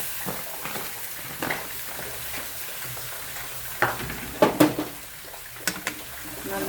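Chopped taro and taro leaves hitting a hot pan, giving a steady sizzle with scraping stir strokes and a few sharper clinks near the end, heard close.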